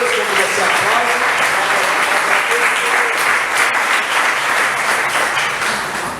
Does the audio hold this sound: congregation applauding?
yes